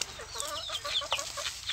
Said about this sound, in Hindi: तो दिन भर मुर्गी जो इसी के अंदर में रहती है